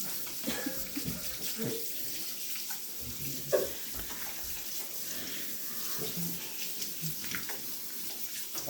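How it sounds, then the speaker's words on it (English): Hands being washed under a running faucet at a kitchen sink while cooking, a steady broadband splash and hiss lasting throughout with small spatters and clinks. "So I'll go wash my hands over here."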